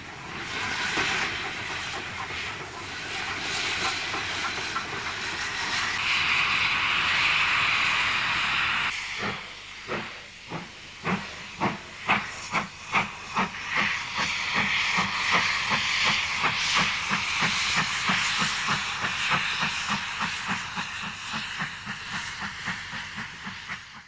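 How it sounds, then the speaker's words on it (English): A steam locomotive on a rural branch line near Rudyard Lake, recorded in October 1960, slows at a request stop: loud steady steam hiss, then rhythmic chuffing and clattering wheels as the train moves on. "trains being stopped by request, as in this sequence recorded in October 1960"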